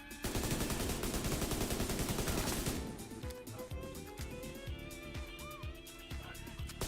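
Rapid automatic gunfire in a video game shooter, a dense continuous burst for about three seconds, then scattered separate shots over quieter game sounds.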